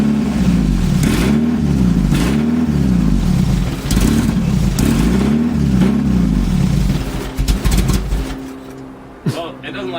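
A Mazda Miata engine fitted in a kart project runs and revs in repeated rising-and-falling swells, then settles unevenly toward a rough idle near the end, with people talking nearby.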